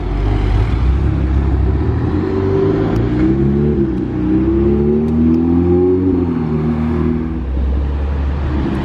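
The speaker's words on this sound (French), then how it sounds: "Ah voilà un V10 qui sonne" A V10 sports car engine revs up and settles, the exhaust rising in pitch in a couple of swells, loud and fairly close, with a steady background rumble of traffic.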